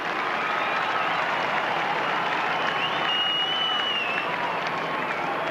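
Australian football crowd at a 1996 North Melbourne versus Hawthorn match applauding and cheering as a player lines up a goal, a steady, dense roar of clapping and voices filling the stadium throughout.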